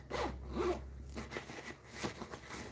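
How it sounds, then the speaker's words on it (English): A zipper on a big, thick Fossil leather purse is pulled in a few short rasping strokes, close by and fairly quiet, with no talking. "It's got a zipper here in the back."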